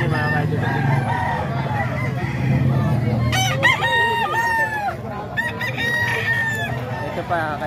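Banded roosters in San Jose del Monte, Bulacan crow loudly and repeatedly close by, with several long calls overlapping and clucking in between.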